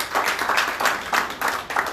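Applause in a church service honoring the fathers of the congregation, a steady crowd clapping with rhythmic bursts across the whole moment, moderately loud and close.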